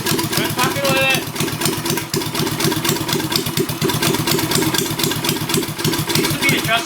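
A mini hog motorcycle engine idles loud and close with a fast, slightly uneven chugging pulse that needs adjustment, running steadily throughout.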